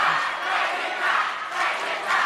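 Audience at a televised gubernatorial candidates' debate in West Java applauds and cheers, a steady loud roar of clapping and voices in waves, with no speech over it.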